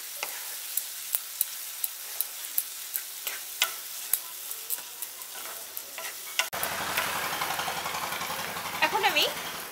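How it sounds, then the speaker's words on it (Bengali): Green peas stirred into a thick spice paste in a pan for a Bengali cauliflower malai curry: a run of sharp spatula scrapes and taps, then a sudden loud, steady sizzle once the peas hit the hot paste. "মটরশুঁটিটা দিয়ে মশলার সাথে আর একটু কষিয়ে নিচ্ছি।"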